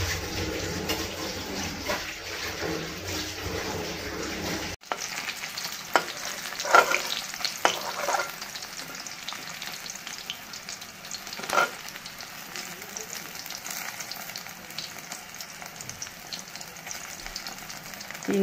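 Pakoras sizzle in hot oil in a wok on a home stove. The frying is a steady, fairly quiet crackle with occasional louder spatters and stirring, and there is no talking.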